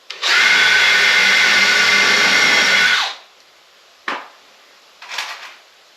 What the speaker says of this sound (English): So I got to drill each one of these